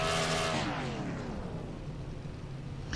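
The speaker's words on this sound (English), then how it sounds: "I think, Jacob Tyler May revving that engine up" A race car engine in the iRacing video game at Martinsville short track revs and then winds down in a falling whine, loud at first and fading into a steady rumble.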